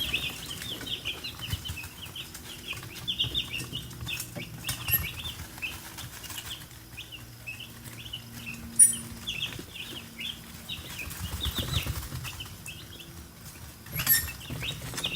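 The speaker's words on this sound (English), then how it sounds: "these chickens, they'll line up on both sides and they'll start bullying each other out of the way, and they will just eat" Backyard chickens crowd together and jostle to feed, giving off soft scattered clucks and peeps over rustling and wing flutters at moderate distance, with no talk.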